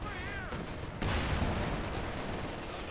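Gunfire, machine guns and .50 caliber fire from a Company of Heroes 2 one-versus-one match, a dense continuous crackle of shots and distant blasts that swells louder after the first second.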